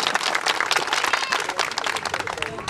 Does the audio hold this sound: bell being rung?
no